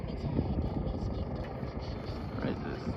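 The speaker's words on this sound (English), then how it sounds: "there's a helicopter there" A Coast Guard helicopter hovers over a ship on the water off Bainbridge Island, its rotor churning as a steady low thrum at middle distance, with people talking over it.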